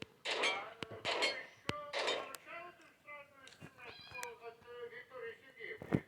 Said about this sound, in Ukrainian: до мене мій кіт пішов